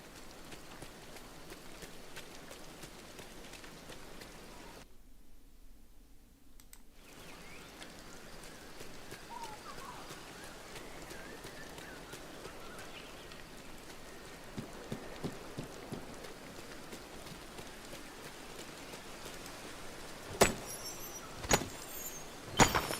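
Steady rain patters in the Dreamlight Valley video game, a soft even hiss that drops out briefly before returning, with a few louder thuds near the end.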